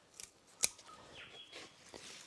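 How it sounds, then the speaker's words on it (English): Scissors snip diseased lower leaves off a tomato plant, one sharp distinct cut followed by a few softer rustles and clicks, close and fairly quiet with birds faint in the background. "So I'm just going to snip those off."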